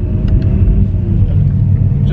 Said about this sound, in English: it's got the stock exhaust on right now, so it's pretty tame